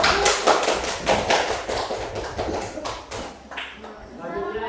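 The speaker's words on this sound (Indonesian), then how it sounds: "Berikan tepuk tangan untuk" Applause in a classroom, a group of children clapping in uneven bursts, close and moderately loud, with voices talking over the clapping throughout.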